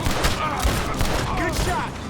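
Gunfire in the Red Dead Redemption 2 video game, a dense rolling fusillade of overlapping shots and thumps running through the whole stretch, loud and busy, with in-game voices mixed in.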